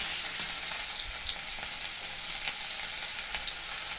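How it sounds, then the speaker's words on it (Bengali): Chopped onion and garlic fry in hot oil with a loud, continuous sizzle. Faint stirring scrapes sound now and then, and no one speaks. "তেল গরম হয়ে গেছে, দিয়ে দেবো এই পেঁয়াজ রসুনগুলো, কেটে রাখা সেই পেঁয়াজ রসুন।"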